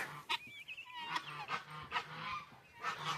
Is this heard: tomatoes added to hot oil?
no